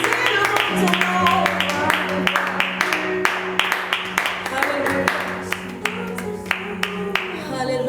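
A church congregation claps in worship to acclaim Jesus, a string of sharp, fairly regular hand claps building over sustained music and voices, with someone speaking during it.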